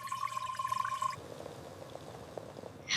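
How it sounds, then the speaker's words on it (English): Water pours into a cooking pot in the kitchen, a brief steady trickling fill that softens and fades, followed by a short clatter at the end. "I pour water into a pot."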